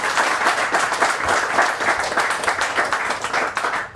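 Audience at a talk show gives a pianist a round of applause, with dense, continuous clapping from a crowd for about four seconds.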